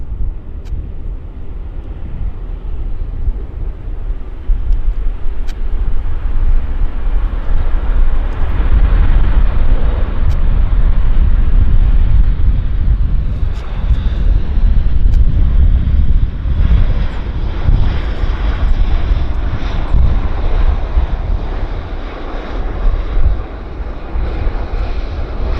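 A WestJet Boeing 737 airliner lands at Vancouver airport, its jet engines rumbling loud and low in a broad roar that swells and fades, mixed with gusts of wind noise on the microphone.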